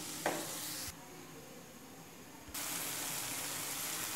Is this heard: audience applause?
no